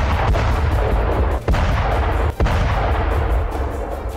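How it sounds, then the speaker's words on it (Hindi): Bombardment of residential areas during the Russia-Ukraine war: a loud, continuous roar of artillery fire and explosions, with sharp blasts breaking through the steady rumble. "एक बार फिर से रिहायशी इलाकों को निशाना बनाकर बमबारी की जा रही है।"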